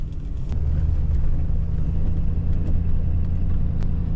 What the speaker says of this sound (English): I got her in four-wheel drive, but we're slipping and sliding all over the place.